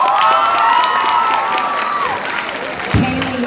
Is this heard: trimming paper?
no